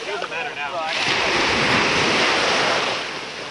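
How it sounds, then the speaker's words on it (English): Ocean surf at Trunk Bay beach on St. John, a steady broad roar of breaking waves that swells and holds, with wind on the microphone and voices briefly at the start. "look at these waves"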